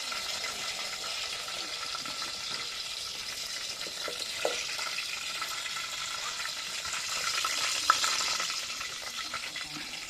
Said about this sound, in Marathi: फोडणी दिलेली आहे, लसूण आहे आणि कढीपत्त्याची फोडणी दिलेली आहे. चांगली तडतडते.